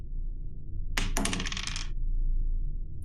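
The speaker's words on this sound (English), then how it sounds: "so it's the dice roll and what?" Dice are rolled on a table during a tabletop role-playing game session, giving one short clattering tumble that rattles for under a second over a low steady room hum.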